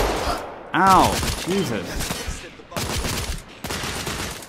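Sniper rifle fire in The Order: 1886 cracks out in loud, sharp bursts amid constant game noise, with a man groaning in pain over the shots.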